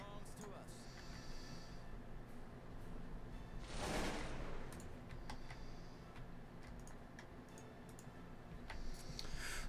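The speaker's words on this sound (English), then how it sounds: "We are under enemy gunfire." Battle in the video game Cossacks 2 brings scattered clicks and ticks and one loud burst of gunfire midway, over a steady in-game background.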